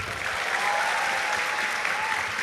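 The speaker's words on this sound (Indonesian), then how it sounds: "Dan semua yang hadir, tepuk tangan untuk Malang." An evening event crowd in Malang claps for the city, a dense, even roar of applause that holds steady from start to finish.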